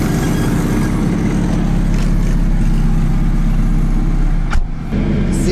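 A Ferrari F430 engine running at a Texas supercar event, a loud, steady low rumble throughout with a brief dip and blip near the end.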